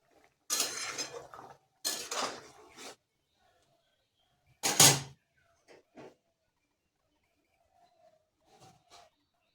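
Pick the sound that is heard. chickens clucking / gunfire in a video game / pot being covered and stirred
pot being covered and stirred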